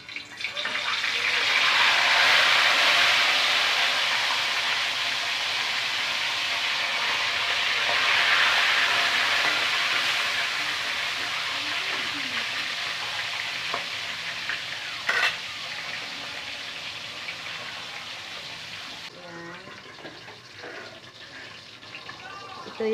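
Tilapia hits hot oil with a loud, steady sizzle that gradually eases. A few clinks and light kitchen noises come through near the end.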